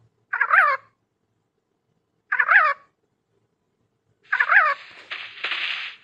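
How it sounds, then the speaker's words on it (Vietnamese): A chicken-like creature in the video game Palworld calls in three short, separate bursts. The last one trails into a longer noisy rustle. The calls are fairly faint, with silence between them. "có các chú gà đấy các bạn ạ"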